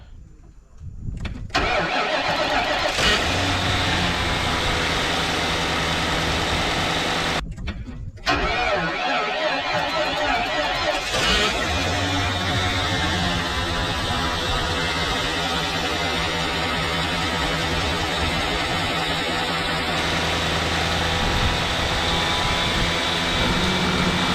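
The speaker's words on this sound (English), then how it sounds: "All right, so I'm gonna attempt to do a little cold start." A Lincoln Town Car is cold-started in extreme winter temperatures in Illinois: the starter cranks, the engine catches, briefly cuts out, then restarts and settles into a loud, steady idle heard up close.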